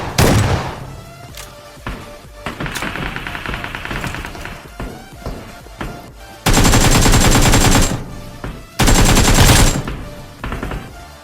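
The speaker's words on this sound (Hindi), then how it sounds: "इस तरफ से 2 बंदों का फुटस्टेप मुझे आ रहा था और फायरिंग भी कर रहे थे वो लोग" Gunfire in PUBG at Pochinki: rapid bursts of automatic rifle fire and single shots crack close and loud, with two long sustained bursts standing out amid game sounds, no talk.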